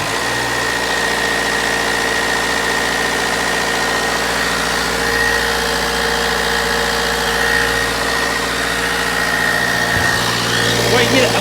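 A 2013 Vauxhall Insignia 2.0 CDTi diesel with a turbo boost fault runs steadily under load, a loud, close, continuous drone with a slight knocking rumble and no clear rise or fall.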